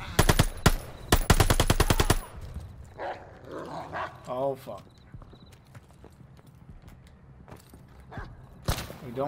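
Machine-gun fire and a dog barking in the Call of Duty: Vanguard campaign mission Operation Tonga: a sharp burst of rapid automatic fire up front, then quieter barks and scattered shots with someone talking over them.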